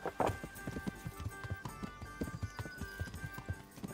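Horse hooves clip-clopping at a steady walking rhythm on a path in the medieval game Kingdom Come: Deliverance, close and clear over faint background ambience, with a brief snort near the start.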